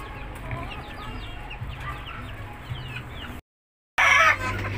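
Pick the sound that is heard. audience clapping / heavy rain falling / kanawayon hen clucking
kanawayon hen clucking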